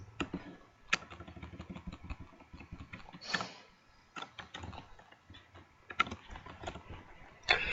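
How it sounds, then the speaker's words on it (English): Typing on a computer keyboard to enter a math equation, with a quick run of close, crisp key clicks and a few louder taps, heard alone with no talk. "We type it in."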